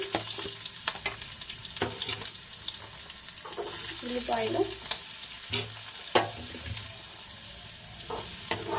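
Okra sizzles in a pan with green chillies and onions while being stirred, a steady fry hiss broken by scraping utensil knocks and brief splashes, close up and with no talking.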